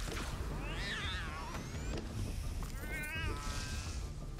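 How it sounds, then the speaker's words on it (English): Cat enemies in the action game Death Must Die give several rising and falling meows over dense, busy combat noise, with a second meow later on. "Goddamn kitties."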